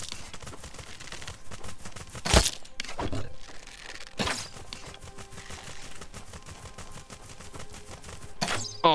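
Gunfire in The Front survival video game blasts at boxes, with rapid cracking shots and a few heavier bangs scattered over several seconds of steady in-game background noise.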